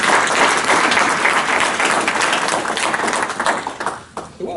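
Loud, close applause from a group of colleagues in a meeting room, a dense burst of clapping that holds steady and then thins out and fades near the end.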